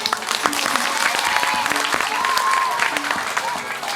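An audience at a Balinese Drama Gong performance claps steadily for several seconds, a dense, even patter of applause filling the space.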